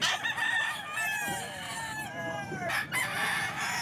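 Several roosters, some of them crossbreeds, crow repeatedly at a busy outdoor pet market, their long rising calls overlapping near and far over steady crowd noise and scattered clucking.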